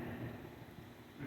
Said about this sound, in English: Beginning to rain.